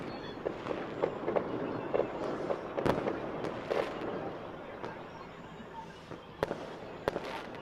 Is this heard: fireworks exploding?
yes